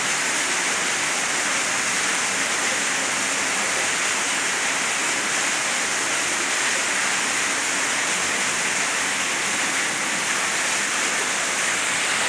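A waterfall inside a cave roars in a steady, dense rush of falling water, loud and close, with no talk.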